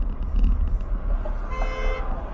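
A car horn honks in short toots, fairly loud and close, as part of a honk-your-horn prank on a wife walking home, with street and engine rumble underneath.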